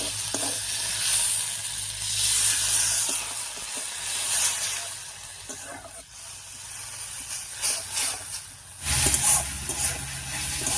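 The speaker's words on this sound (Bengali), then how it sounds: "এবার একটুখানি জল দিয়ে কষিয়ে নেব।" Spice paste and potatoes sizzle and hiss in a hot pan as a splash of water goes in, a steady close frying crackle that swells into a louder burst of steam near the end.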